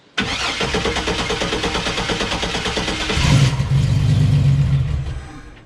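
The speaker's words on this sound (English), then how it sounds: "Maybe we'll just crank and see. I know there's no fuel in it, so." A car engine with no fuel in it cranks over repeatedly on the starter after its original fuel lines were replaced. It gives a loud, close, steady rhythmic chugging for about five seconds, and the tone shifts partway through.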